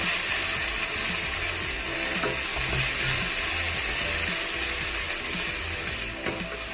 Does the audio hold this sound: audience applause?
no